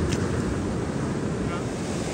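Sea waves washing onto a beach where people are fishing, a steady close wash of surf mixed with wind buffeting the microphone, moderately loud and continuous.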